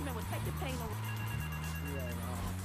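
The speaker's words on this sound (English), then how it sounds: "I don't want to pick up the phone yet because I feel like I think it will send us on a mission." A payphone rings in the video game GTA 3 with a steady, repeating electronic ring that continues throughout. Sustained low tones and game background sound lie beneath it.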